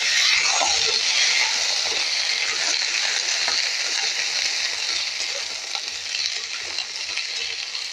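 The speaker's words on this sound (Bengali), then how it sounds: "পটলগুলোও ভেজে নেব" Pointed gourd (potol) frying in oil left from frying potatoes: a steady, loud, close sizzle with fine popping and crackle throughout, no talking.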